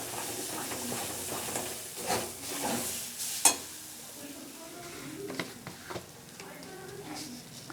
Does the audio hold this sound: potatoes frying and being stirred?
yes